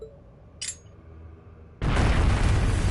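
Bomb exploding in the game Trails of Cold Steel: a short whoosh, then a sudden loud, sustained roaring blast that holds to the end.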